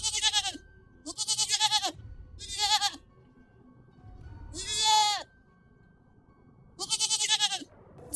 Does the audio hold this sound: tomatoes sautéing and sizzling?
no